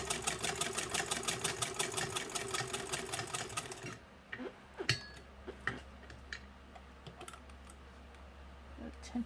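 A Singer 115 hand-crank sewing machine stitching, a rapid steady mechanical chatter of needle strokes for about four seconds before stopping, followed by a few scattered clicks and handling knocks at close range.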